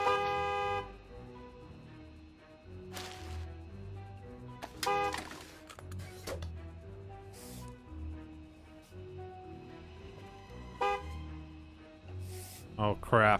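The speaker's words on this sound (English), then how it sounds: "Oh crap, I hear a lot of honking outside." Car horns honk outside a gas station in the video game Gas Station Simulator, repeated short toots scattered over a steady hum, with someone talking over them.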